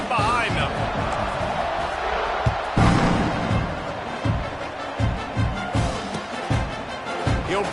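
A football stadium crowd roars steadily before a kickoff, a broad, dense wall of cheering with a commentator talking over it.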